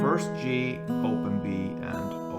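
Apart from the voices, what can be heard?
No everyday noises stand out.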